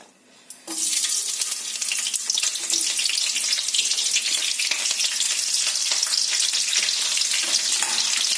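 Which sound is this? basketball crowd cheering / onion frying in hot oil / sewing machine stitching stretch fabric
onion frying in hot oil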